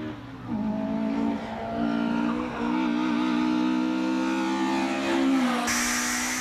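A tuned Toyota AE86 runs on a race track, its engine note climbing and holding a steady howl through the gears, with a brief dip in the middle, heard up close and without talk.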